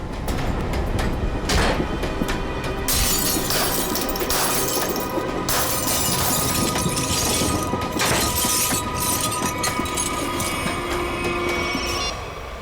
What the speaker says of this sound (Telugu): గ్లాస్ పగలగొట్టాలి